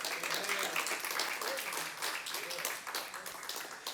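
A church congregation claps during a sermon, giving a soft, distant patter of applause with faint murmuring voices underneath.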